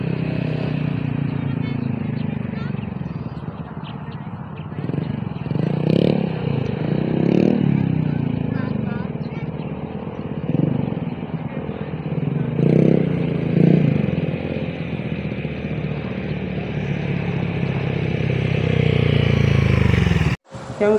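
A motorcycle engine drones steadily and close for a long stretch on a bypass road in Aurora, Isabela, rising and falling with the throttle amid wind noise, then cuts off abruptly.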